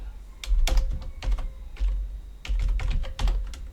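Fast typing on a computer keyboard, with clustered clicky keystrokes in irregular bursts, close and fairly loud over a low hum.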